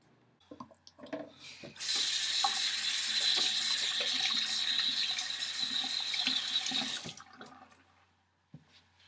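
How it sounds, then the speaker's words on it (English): A tap runs steadily for about five seconds as hands are washed, a close, full rushing stream that starts abruptly and cuts off, with a few small clicks and splashes before and after. "I was washing my hands."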